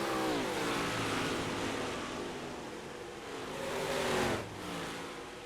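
Legend race cars on the Oswego Speedway dirt oval roar through corners three and four, engines revving and shifting in pitch as the pack sweeps past at a distance, with broad crowd-and-track noise throughout.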